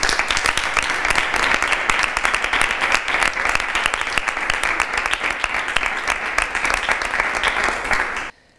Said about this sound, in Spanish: a vosotros un aplauso muy fuerte